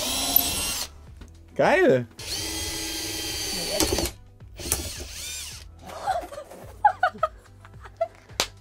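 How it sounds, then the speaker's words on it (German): Electric drill boring into cheap, poor-quality wood in a DIY shelf build, whirring in several short bursts of varying length with pauses between, followed by scattered clicks and handling noise; a person speaks briefly and laughs. "bei diesem schlechten Holz bricht dieser dumme Bohrer ab"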